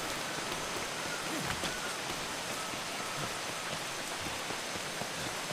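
Rain falling in the Atlas video game, a constant soft hiss of downpour with scattered droplet patter, quiet and unbroken, with no voices.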